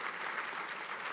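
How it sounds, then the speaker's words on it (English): A crowd applauds at a talk, a brief burst of dense, even clapping from many hands, fairly close and steady with no voices over it. "Rebecca, give her a round of applause, folks."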